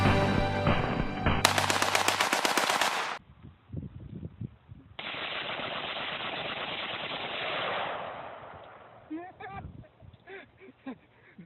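A rifle with a bump fire stock shooting rapid bursts: dense, loud strings of shots, a long sustained run, then scattered single shots, with someone talking in between.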